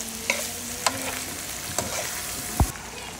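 Potatoes and hotdog stirred in a frying pan, a steady sizzle with a few sharp scraping clinks of the utensil against the pan, close and brief, no talking.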